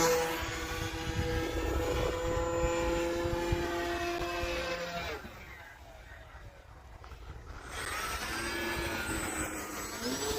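An Sbach RC model airplane flies hard on a cold winter day, its electric motor whining with shifting pitch as it passes, dropping quieter mid-pass before surging back.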